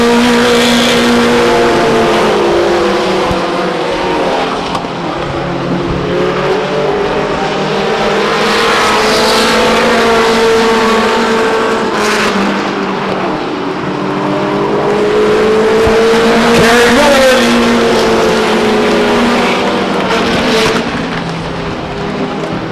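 Pro 4 trucks race around the oval at Stockton 99 Speedway, engines roaring loud and continuous with rising and falling revs as they pass through the turns, with no voices.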